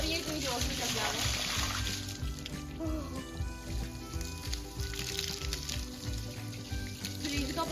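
Cold water runs steadily from a tap in a home kitchen, a continuous close splashing wash that lasts throughout, with a voice or other sound faintly underneath.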